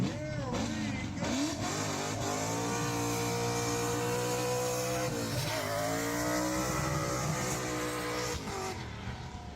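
A show car at a car show pulls away and accelerates hard, its engine roaring loud and close with rising revs and tire noise, while people's voices are faintly heard underneath.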